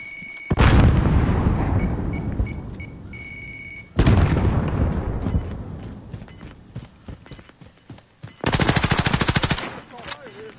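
Loud blasts and rapid gunfire from a video game shooter with a grenade, including heavy booming hits followed by crackling decay and a fast rattling burst near the end.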